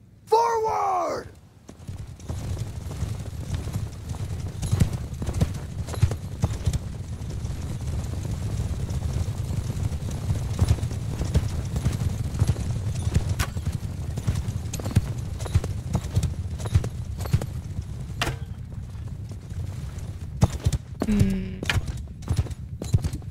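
Cavalry horses gallop in battle in Mount & Blade 2: Bannerlord, a dense, continuous rumble of many clattering hooves that holds steady throughout, with occasional sharp clashes and brief shouted voices.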